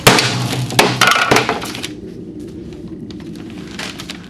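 An epoxy-primed metal test panel treated with Ospho is smashed and bent. A few loud, sharp impacts with clanking come early on, and a quieter scraping, rattling tail follows.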